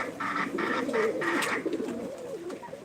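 Several pigeons coo in repeated throaty pulses over a steady background hum, close and clear, with overlapping calls from a flock kept in a loft.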